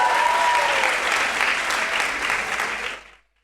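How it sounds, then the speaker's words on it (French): A large audience in a hall at a festival final claps loudly and steadily, dense applause holding for about three seconds before cutting off abruptly. "On applaudit très fort."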